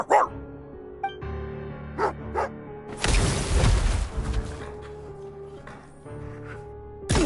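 A hunter's dog barking in a tense standoff, a few sharp close barks and yips scattered over several seconds with a louder burst of noise in the middle and music-like tones underneath.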